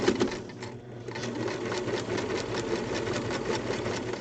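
A sewing machine runs steadily, stitching along a marked seam line with pins being removed as it goes; a continuous close mechanical whir with rapid needle rhythm, a brief dip near the start, no talking.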